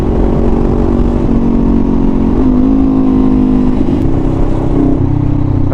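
Steady road traffic with cars and motorcycles passing close by, a continuous loud engine drone with rising revs and no gaps.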